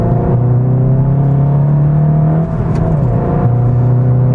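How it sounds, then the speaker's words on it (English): A 2017 SEAT Leon Cupra with a manual gearbox pulls away with the clutch slipping, giving a loud, close, steady engine drone that wavers and dips briefly before settling back into a sustained hum, with no talking. "Nice bit of a clutch slipping there, very expert driver."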